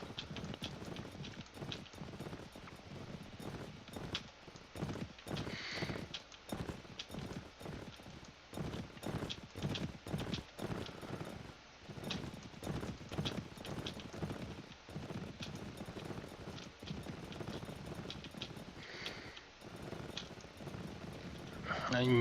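Horses' hooves clip-clop in a steady run as mounted riders travel in the medieval video game Mount & Blade: Warband (A Clash of Kings mod), a fairly faint, continuous patter with light rain-like texture.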